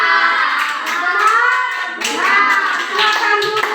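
Schoolchildren in a classroom clap for a presenting group, loud close hand claps mixed with children's chatter and voices running over the top.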